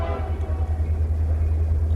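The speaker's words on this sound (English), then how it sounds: "we got the train helping us out, so add some good sound effects" A passing train rumbles loudly and continuously with a deep, steady low drone, close by and without pause.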